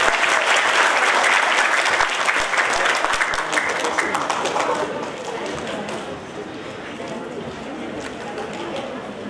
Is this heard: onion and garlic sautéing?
no